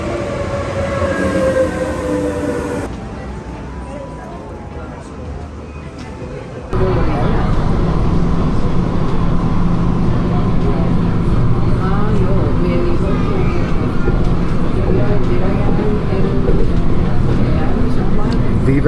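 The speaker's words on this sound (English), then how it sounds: "this metro station, all the way this way." A Medellín metro train rumbles steadily with a rising whine at first, then a louder, continuous rolling roar from the rails.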